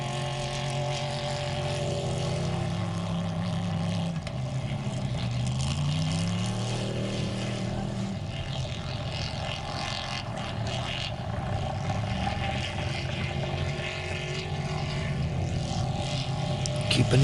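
A racing boat engine drones steadily and fairly loudly throughout, its pitch wavering slightly as revs rise and fall, with a continuous mechanical hum and no break in the sound.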